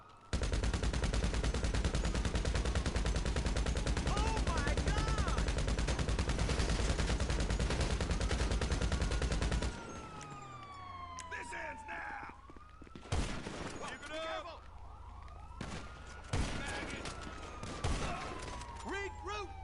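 Gunfire in GTA 5 during the Gunrunning update, with a dense continuous fusillade for about ten seconds, then sparser sharp shots and a sniper rifle crack amid fading echoes, with a voice talking now and then.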